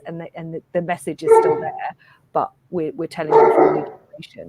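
A dog barks in two short bursts in the background during an online literary festival event, partly under ongoing conversation.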